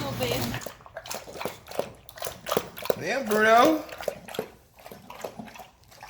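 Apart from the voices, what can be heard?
dog Bruno lapping water from bowl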